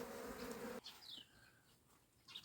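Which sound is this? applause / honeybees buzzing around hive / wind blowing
honeybees buzzing around hive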